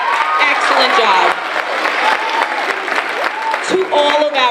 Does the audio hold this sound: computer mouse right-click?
no